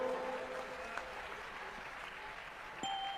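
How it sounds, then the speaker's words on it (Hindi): Steady, soft applause from an audience fills the air at a Jain religious ceremony in Jabalpur, a faint continuous patter of clapping with a faint voice and a brief tone near the end. "जोरदार तरीके से तालियों के साथ स्वागत करें"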